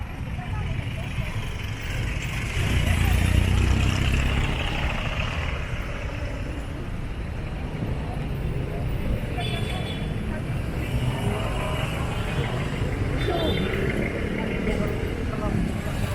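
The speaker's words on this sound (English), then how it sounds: "So this is the traffic that you can see around Capitol." Continuous road traffic around Capitol Site in Cebu, Philippines: a dense, steady wash of car, bus and motorcycle engines with a louder vehicle passing early on, heard outdoors at moderate volume.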